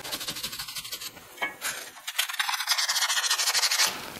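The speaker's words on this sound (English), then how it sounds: "Let me wire brush a little bit." Short bursts of wire-brush scrubbing on a Porsche Boxster brake rotor, a rough rasping rub that repeats in quick strokes at close range, with no voices.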